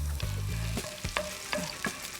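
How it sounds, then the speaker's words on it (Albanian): Onion sizzling as it fries in a pan, a steady close crackle with occasional stirring scrapes. "Derisa qepa po skuqet"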